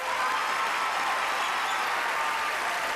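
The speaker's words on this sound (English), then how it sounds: "So let's have a big round of applause for Mark the Knife." A television talent show audience claps for a knife act, a dense, loud, steady wash of applause filling the whole moment without a break.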